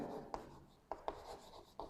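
Chalk or marker strokes on a board during a maths lecture, four short soft taps and scrapes spaced unevenly in a quiet room.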